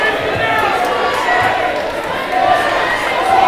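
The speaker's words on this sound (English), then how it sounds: "Roosevelt fans letting him hear it." Roosevelt fans at a high school boys basketball game in a gym cheer and shout in a loud, continuous roar that swells near the end of the final seconds.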